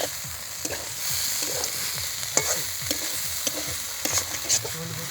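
Onions and spices for a vegetable masoor lentil dal are stir-fried in oil, a spatula scraping and tapping the pan in an irregular rhythm over a steady close sizzle, with no talk.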